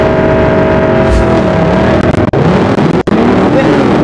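A loud car engine in the racing game Drive Zone Online drones and revs continuously, its pitch rising and falling as the vehicle accelerates, with a voice talking over it.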